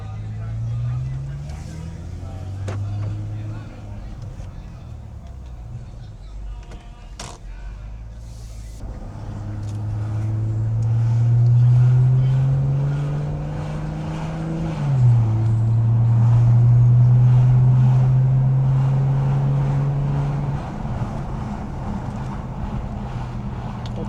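A BMW 540i engine revs and pulls away in sport mode, the exhaust note rising and dipping through gear changes, fairly close and steady under wind noise, with people talking over it.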